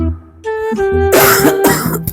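A person with a cough in a comic family skit clears their throat harshly and coughs in a few loud, close, rasping bursts.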